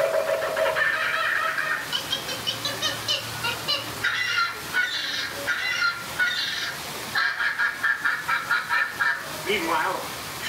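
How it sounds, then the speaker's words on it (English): Animated birds squawk and honk in an outraged frenzy as a theme park show effect in the Enchanted Tiki Room, rapid overlapping calls in bursts, fairly loud and close. "Suddenly, the treetops explode in a frenzy of outraged birds."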